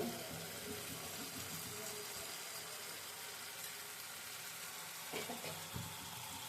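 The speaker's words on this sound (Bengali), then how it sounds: "কষাতে কষাতে আমি একটু ঢেকে দিব।" Spices sauté in a pan with a faint, continuous sizzle and a few soft scraping stirs near the end, quiet and close.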